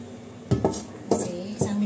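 Metal pot lid set back on a pot of simmering Filipino beef steak, bistek: three quick clanks and rattles in succession, close by, over a quiet background.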